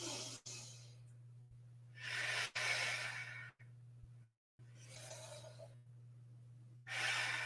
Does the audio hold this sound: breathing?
yes